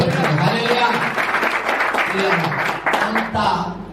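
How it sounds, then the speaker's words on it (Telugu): A church congregation at a Friday worship service claps loudly, a dense, continuous patter of many hands blended with voices throughout. "నమ్మితే గట్టిగా చప్పట్లు కొట్టి"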